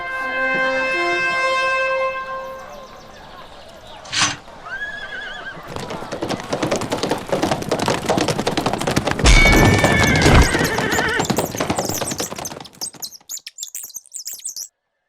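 A horse gallops in a jousting tournament in the Playmobil Rescue from Rock Castle video game, with a whinny, rapid hoofbeats building to a clashing impact, and birdsong and game music around it.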